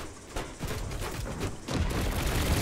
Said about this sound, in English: Ooh, that's some good firepower. We have speed. Let's G for the cannons.